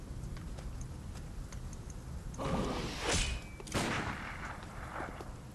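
A couple of loud gunshot blasts in Bloodborne, close and sharp with reverberant tails, rising over a quiet, steady game ambience after a muted stretch.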